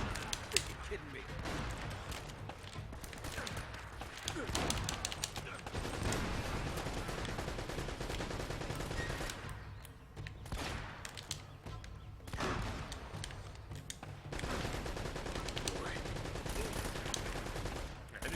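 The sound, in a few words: gunfire in a firefight, from video game Uncharted: Drake's Fortune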